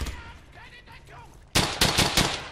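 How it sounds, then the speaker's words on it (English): Machine gun fire in the World War II shooter game Brothers in Arms: Hell's Highway: a loud string of rapid bursts starts about halfway through, after a quieter stretch of game ambience with faint voices. "Oh, there was the MG the entire time."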